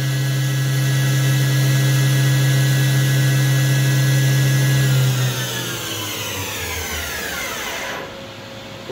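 A Doosan DNM400 high-torque vertical machining center spindle runs steadily at 8,000 RPM as a loud, even whine, then spins down in a long falling sweep and fades to a low hum near the end.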